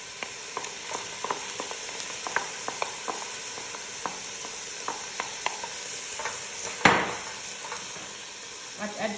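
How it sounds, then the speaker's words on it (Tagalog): Coriander leaves are stirred into a cooking pot over a quiet sizzle, with scattered spoon scrapes and clicks against the pot and one louder clatter near the end. "At add ko na itong coriander leaves. Ayan, mix ko rin siya."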